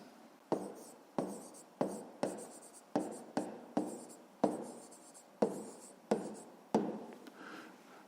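Handwriting on paper while working a fifth-grade math exercise, a close series of about a dozen sharp scratchy pen strokes at a steady pace, each fading quickly, with no voices.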